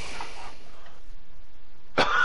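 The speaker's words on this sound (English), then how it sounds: "stop coughing in my stream" A single short, sharp cough bursts out near the end over a quiet room background on a PS4 Fortnite livestream.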